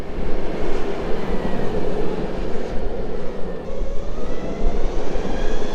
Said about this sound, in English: You can hear that belt whine at the back. It's like having a supercharger.